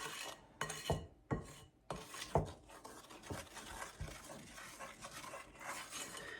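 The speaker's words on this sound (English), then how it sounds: "Make sure to scrape those sides so we're getting all of the flour incorporated." Metal spoon scraping and clinking against the sides of a bowl while mixing plum bread dough with flour, butter and yogurt, close up in a series of rasping strokes and light taps, louder at first then softer.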